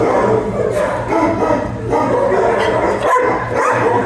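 Dogs at what seems a shelter or rescue setting, barking and yipping amid a noisy crowd, with steady loud background din and a few sharper barks near the end.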